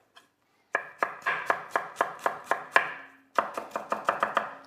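A knife chops onions for caramelising on a board: about a dozen crisp, evenly spaced strokes, a brief pause, then another quick run of cuts, close and clear with no talk.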